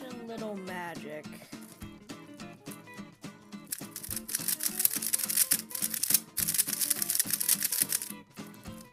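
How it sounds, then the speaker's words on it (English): A YJ Guanlong V3 speed cube being turned gives rapid, dense clicky clatter, close and fairly continuous, growing busier and brighter partway through, with no talk over it. "this turning is like really clicky"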